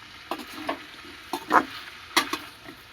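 Peas and chopped tomato fry in a pan for vegetable biryani as a spatula scrapes through them in several quick, close strokes over a faint, steady sizzle.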